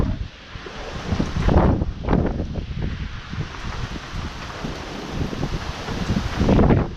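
A severe spring wind storm roars in loud, surging gusts that swell and fade, thrashing foliage nearby with heavy wind buffeting on the microphone and no voices.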